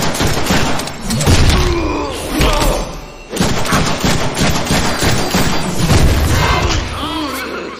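Gunfire in the Deadpool video game: loud, dense bursts of shots and heavy thuds run nearly continuously, with brief lulls, under a voice talking.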